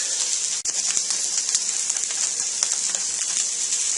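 Salmon searing in a hot pan, a steady bright sizzle with small crackling pops, close and fairly loud, with no voices over it.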